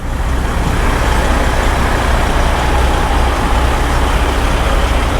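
A truck idles at the Iowa 80 truck stop, giving a loud, steady engine rumble close by with a constant broadband roar and no clear changes.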